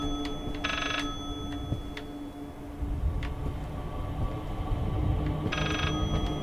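A telephone rings in the horror video game Layers of Fear, two short bursts of ringing several seconds apart over a low rumbling ambient background, with no talking.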